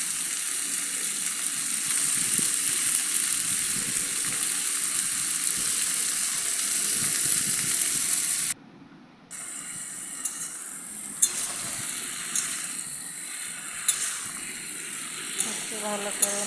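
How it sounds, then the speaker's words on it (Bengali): Malabar spinach and potatoes sizzle loudly in a pan as they are stirred, a dense frying hiss with a short drop-out, then occasional scrapes and knocks of the spatula, close by. "একটু ভালো করে নাড়াচাড়া করে নিচ্ছি।"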